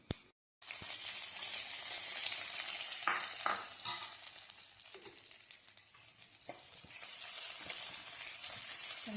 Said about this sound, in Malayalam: നന്നായിട്ട് മിക്സ് ചെയ്യുക.